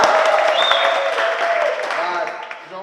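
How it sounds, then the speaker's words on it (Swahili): At a gathering, a crowd applauds the chairman with loud, dense clapping and cheering that slowly fades over a few seconds as voices rise beneath it. "Wapi makofi ya chairman?"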